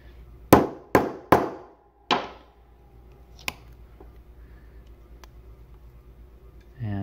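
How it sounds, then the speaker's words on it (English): A hammer strikes a hole punch to cut the center hole in a standard saxophone pad, four loud, sharp, ringing blows close up at a quick rhythm, followed by a lighter tap and quiet handling. "I'll use the hammer because it's a little easier."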